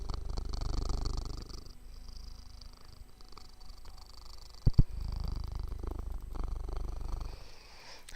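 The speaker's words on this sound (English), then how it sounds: "Can anybody hear him purring?" A cat named Nandi purrs while curled on a person's lap, a close, steady, low rumbling purr with a gentle rhythmic pulse that runs throughout, briefly broken by two sharp knocks midway.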